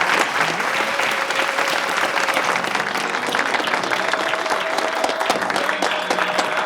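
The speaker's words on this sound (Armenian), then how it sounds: "Եվ այդ բոլոր ծափահարությունները ու հազարապատիկ առավետ ձեզ են ուղղված" A television studio audience at a talk-show birthday celebration gives loud, dense, sustained applause that runs steadily through the whole stretch with no talking.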